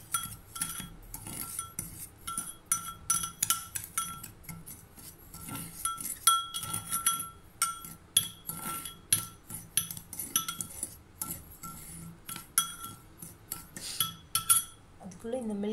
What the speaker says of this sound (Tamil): நல்லா இந்த சுகரும் காஃபியும் நல்லா மிக்ஸ் ஆகணும்